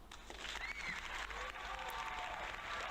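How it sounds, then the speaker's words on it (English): Faint, steady applause from a crowd, soft and distant-sounding, running continuously without a break. "A round of applause."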